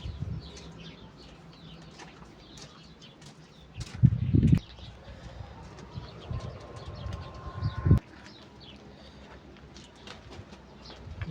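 Domestic pigeons circling high overhead on a rainy day, not coming down to land: two sharp bursts of wing flapping stand out against a steady bed of soft cooing and scattered bird chirps.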